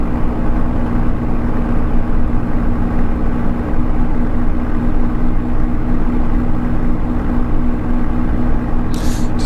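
A Spitfire's engine in flight in Microsoft Flight Simulator, a loud, steady, droning rumble with a constant low hum that holds unchanged throughout.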